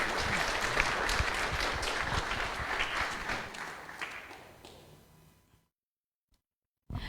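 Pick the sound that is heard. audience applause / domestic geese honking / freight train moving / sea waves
audience applause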